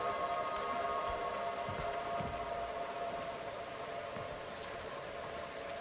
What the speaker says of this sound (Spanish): Llueve sangre otra vez. Nunca para